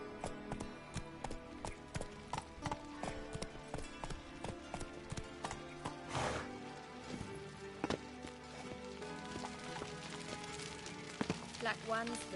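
Hooves of Roach, Geralt's horse in The Witcher 3, thudding in a steady galloping clip-clop, moderately close against background music.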